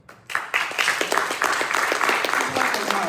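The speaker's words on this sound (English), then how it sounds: "I want to give her a round of heartfelt clapping" An audience breaks into applause for a young woman, dense clapping that starts abruptly and holds steady and loud throughout, with voices mixed into the crowd noise.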